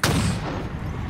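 A rocket launcher firing in a Halo Infinite Big Team Battle, a single heavy booming blast that strikes sharply and then rumbles away over about a second, loud and close with no voices.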